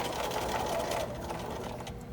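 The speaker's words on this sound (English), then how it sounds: "Begin stitching and back tack at the beginning and the end." A sewing machine stitches fabric for a large ironing board cover, a continuous fast mechanical whirring run that eases slightly toward the end, heard alone without speech.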